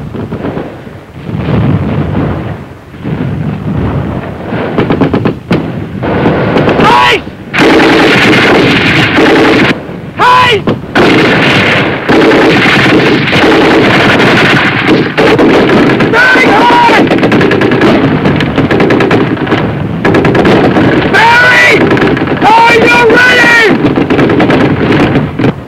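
Loud covering gunfire and machine gun bursts during an infantry platoon's attack on a built-up urban area, sustained rattling volleys with heavy booming shots throughout.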